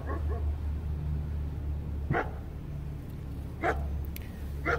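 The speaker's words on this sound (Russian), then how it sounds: "Даже собаки, по-моему, вот только сейчас начали лаять." Dogs bark a few times in the distance from a suburban neighbourhood in the United States on a January day, faint sharp yips over a steady low background hum.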